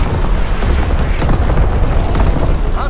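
Enemy artillery shells land in a video game battle, a dense, continuous roar of loud, booming blasts and rumbling debris filling the whole moment without pause.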